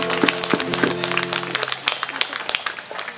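A church congregation at a Catholic worship service claps loudly in thanks, with sharp irregular hand claps over a held keyboard or organ chord that cuts off midway, leaving the clapping nearly alone.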